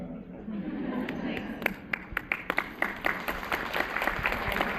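Scattered audience clapping at a fan convention panel builds slowly into applause, with a few sharp near claps rising over a murmuring crowd and some chatter.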